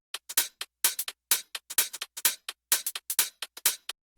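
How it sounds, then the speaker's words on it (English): A crisp electronic hi-hat loop programmed in FL Studio for an electro swing J-pop track plays alone, quick bright ticks in a swung, syncopated pattern, fairly quiet and dry. "A hi-hat loop."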